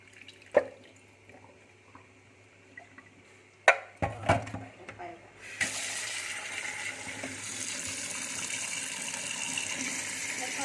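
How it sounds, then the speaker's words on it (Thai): Washing eggs under running tap water for boiling: a few drips and clinks of handling at first, then a steady loud gush of faucet water pouring continuously, close by. "ก็จะล้างไข่ก่อนนะคะให้สะอาดค่ะ"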